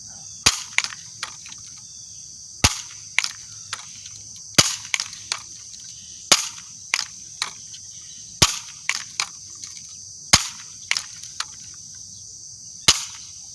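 An air gun fires repeatedly at a Pure Leaf bottle outdoors, sharp cracks arriving about every two seconds, each followed by fainter secondary snaps, over a steady high insect-like hum.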